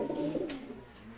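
A Giribaz pigeon held in the hand gives a brief, soft, low throaty coo, close and quiet with no talking.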